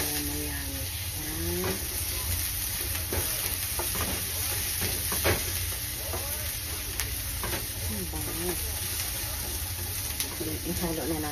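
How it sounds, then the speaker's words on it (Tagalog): Onion and garlic stirred in a hot pan, a steady sizzle and hiss running under the clatter of a spoon scraping and turning them, with a voice talking over it throughout. "ihalo natin ang sibuyas at saka bawang"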